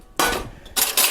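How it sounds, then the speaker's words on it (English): A small frying pan, or skillet, is handled in a home kitchen, giving three quick metallic clanks and scrapes close by, separated by short pauses. "get you a small frying pan, small skillet"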